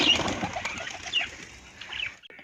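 A pair of white pigeons flap their wings close by in quick fluttering bursts, with a few faint coos and chirps, then brief quiet at the end.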